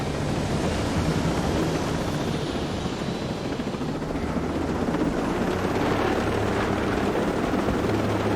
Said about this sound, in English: the helicopter would be the most convenient way to get back to him